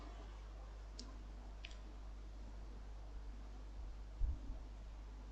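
A computer mouse gives a few sharp, isolated clicks against quiet room hiss, with a soft bump or handling noise near the end.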